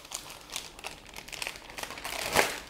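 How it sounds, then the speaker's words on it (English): Baking paper peeled off rolled cookie dough, soft crinkling and rustling in short bursts ending in a louder tearing crackle, close but quiet. "What I'm gonna do now is I'm gonna whip off this paper"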